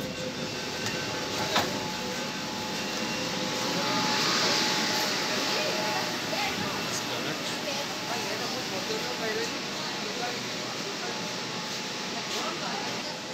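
A Kolkata Metro train standing at Esplanade underground station gives a steady, loud rumble and hiss with a faint electrical hum, while people talk over it throughout.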